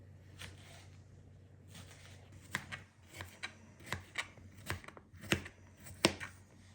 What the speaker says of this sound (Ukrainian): Перчик болгарський буду нарізати також кубиком.